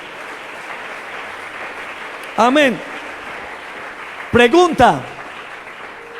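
A church congregation keeps up a steady, even wash of applause throughout, while a preacher speaks briefly over it twice.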